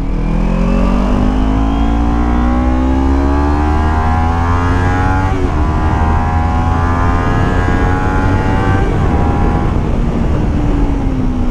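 A 2018 Kawasaki Ninja 250 Fi motorcycle on a test ride, its engine droning steadily and rising in pitch as it pulls through the gears, loud and close with road and wind rush throughout.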